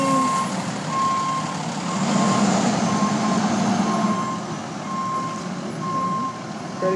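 A fire engine backs into its fire station, its reversing alarm beeping at a steady, evenly spaced rhythm over the deep rumble of the idling truck, with no talking.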